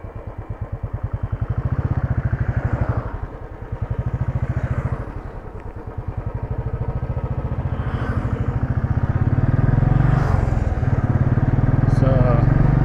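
A Royal Enfield Classic 350 with stock tires and brakes thumps close by with a steady, pulsing single-cylinder beat, its loudness dipping and rising as the rider slows in a braking demonstration, then building toward the end; someone talks over it.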